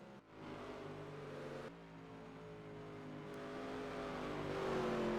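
A race truck's engine drones steadily through the turns at an Evergreen sprint qualifier, holding a smooth, fairly subdued note that slowly swells louder over a few seconds, with no voices.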